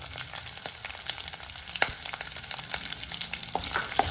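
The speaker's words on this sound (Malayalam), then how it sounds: "ഇതെല്ലാം നന്നായിട്ടൊന്ന് എന്താ പറയുക മൂപ്പിച്ചെടുക്കണം കരിഞ്ഞു പോകരുത് ഇച്ചിരി ഒന്ന് മൂക്കണം" Finely chopped small red onions (shallots) fry in a pan with a dense, lively sizzle and frequent crackling pops, close and continuous, with occasional stirring.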